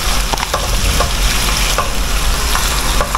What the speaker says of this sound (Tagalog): Yan, kumulo na kasi.